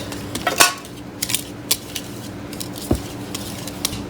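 A spoon stirs sugar into a mixture in a bowl, with clinks and scrapes against the dish scattered over a soft continuous background, a few sharper knocks standing out.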